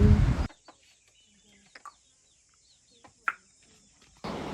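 A few brief clucks and chirps from chickens, scattered and fairly faint, between louder stretches of background noise at the start and end.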